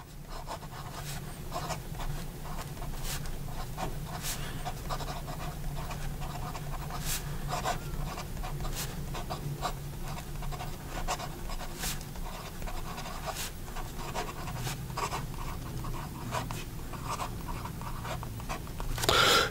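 A Laban Flora fountain pen with a steel Bock nib writes on paper, giving soft, continuous scratching strokes with occasional sharper ticks over a faint steady background.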